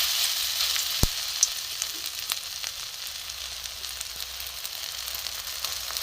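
Bread batter mixture frying in a little oil in a wok, giving a steady soft sizzle with occasional small pops and one sharp clack partway through, with no talking.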